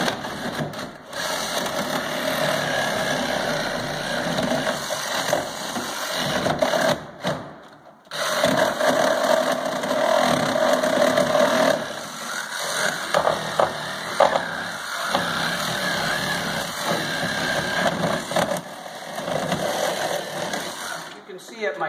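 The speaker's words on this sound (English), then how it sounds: "Cut through nails." A saw cuts through the nails of an interior door frame during removal, producing loud buzzing, gritty cutting in bursts with brief pauses, and a voice is heard speaking over parts of it.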